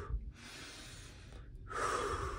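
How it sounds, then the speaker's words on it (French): A held breath let out in a relaxation exercise: a short sharp intake, then a long soft exhale, a pause, and a stronger, louder breathy release, close and alone. "Tu bloques ta respiration et tu relâches, comme cela."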